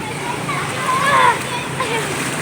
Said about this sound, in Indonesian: Deras sekali airnya